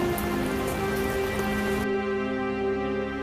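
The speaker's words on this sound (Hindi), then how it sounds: "बारिश भी तेज थी" Heavy rain pours down steadily in a dense, continuous hiss, loud and close, with the downpour thinning slightly partway through but never pausing.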